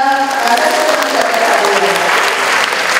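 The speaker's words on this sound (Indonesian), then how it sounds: "oke, tepuk tangan dong" Audience applause at an Indonesian civil-service leadership briefing, a dense, steady clapping from a large seated crowd that fills the whole moment at an even loudness.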